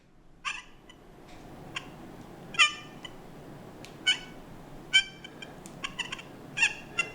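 An XP Deus 2 metal detector gives short, bright chirps over a sterling silver box chain, about a dozen small tonal blips spaced irregularly above a soft background hiss.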